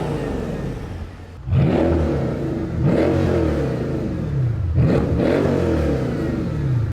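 A Mercedes-Benz AMG exhaust revs repeatedly, with three loud rising-and-falling surges over a steady, throaty idle, heard close and alone.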